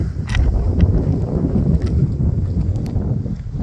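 Wind blowing outdoors during an evening walk on a chilly spring day at sunset, a steady broadband rush with microphone buffeting that stays continuous and fairly loud throughout, with no talking.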